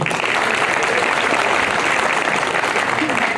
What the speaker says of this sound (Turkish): herkese çok teşekkür ederim ve kuvvetli bir alkış istiyorum